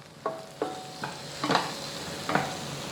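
Semolina (rava) roasting in a pan for sheera gives a quiet background sizzle, broken by about five sharp scraping strokes of a spoon stirring the grains.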